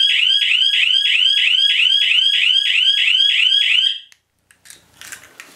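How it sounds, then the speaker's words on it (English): An escape room alarm triggered by a broken laser beam blares in fast repeating electronic whoops, loud and close, for about four seconds before cutting off, followed by faint clicks and rustling. "if I break either one of these lasers, or any of the lasers pointed at any of the sensor boards, the alarm will go off in this specific program"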